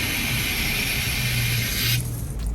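Hissing spray of water from a pressure washer gun washing a very dirty ceramic-coated car, loud and steady, then briefly tapering near the end.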